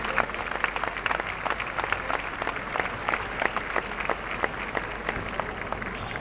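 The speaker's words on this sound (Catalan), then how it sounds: "Un fort aplaudiment per a la Banda Municipal de València" An outdoor crowd claps steadily for the Valencia Municipal Band and its conductor. The dense, even applause of many hands holds at a moderate level throughout.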